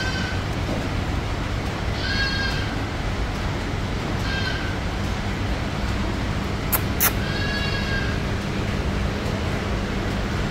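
A female goat bleating at a livestock yard, several separate wavering bleats spaced a couple of seconds apart over a steady background hum, with a sharp knock partway through.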